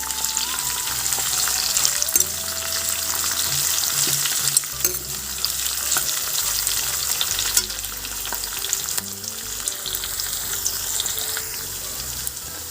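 Onions frying in hot oil for carrot rice, a steady bright sizzle running throughout with irregular scraping and stirring knocks of a spoon in the pan, close and alone with no voices.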